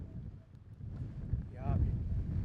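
Strong wind rumbles and buffets the microphone along a cycling time trial route. The gusts are loud and low and build toward the end, with faint voices mixed into the noise.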